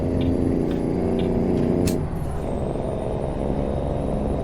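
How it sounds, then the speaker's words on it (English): A loud, steady truck engine drone in American Truck Simulator runs throughout with a deep rumbling low end, its tone shifting slightly partway through, like a heavy truck idling and pulling away. "I hope your eardrums aren't being blown by the noise of this engine."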